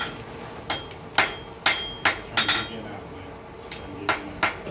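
A hammer strikes a copper and wrought iron coffee scoop in about a dozen sharp, ringing metallic taps at an uneven pace, with quiet room noise and occasional background voices.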